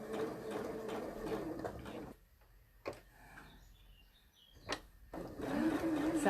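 A sewing machine stitches around a bound buttonhole in close, whirring bursts. The motor falls quiet in the middle, with a few light clicks, then whirs up again at the end.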